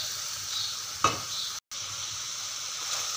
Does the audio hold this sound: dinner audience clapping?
no